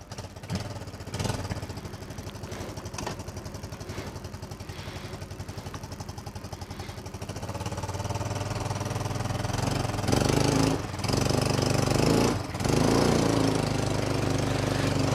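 An ATV engine runs steadily at an outdoor adventure park in Sirumalai, a close, continuous mechanical drone with rhythmic clatter that grows louder and rougher after several seconds, as if revving or moving off.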